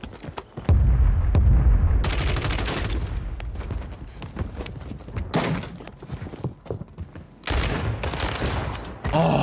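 Enemy gunfire in a multiplayer shooter game: repeated loud bursts of rapid automatic fire, some near and booming, separated by short pauses and scattered single shots.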